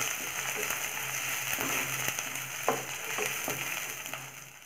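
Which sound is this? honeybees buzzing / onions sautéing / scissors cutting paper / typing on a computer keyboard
onions sautéing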